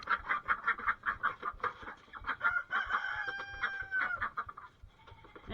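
Poultry in a pen call and chatter near and fairly loud, a rapid run of squawks and clucks followed by a longer drawn-out call.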